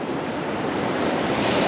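Surf breaking steadily on a sandy Florida beach at Vilano Beach, a continuous loud wash of waves swelling slightly toward the end, with no voices.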